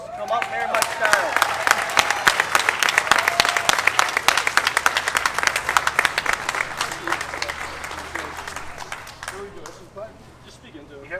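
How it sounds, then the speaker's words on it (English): An audience at a rally to keep Catholic schools open breaks into sustained applause, dense clapping that swells loud and then thins out toward the end, with scattered voices in the crowd. "let's give him a round of applause"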